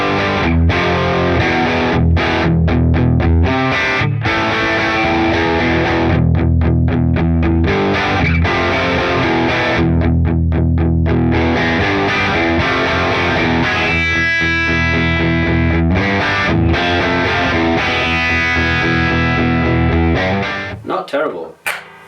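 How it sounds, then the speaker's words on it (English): A crunchy, overdriven Harley Benton ST-20 electric guitar plays continuously through a cranked AC30 amp, strummed chords and riffs with steady, driving medium gain, ending with a brief fade. "So now we have a cranked AC30 for this medium kind of crunchy gain tone."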